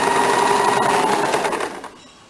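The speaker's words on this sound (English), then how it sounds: "Now I am starting the stitching from the shoulder point, the notch mark which we have done." A sewing machine runs steadily, stitching a blouse sleeve onto the bodice from the shoulder notch, its close, even whir continuing before easing off toward the end.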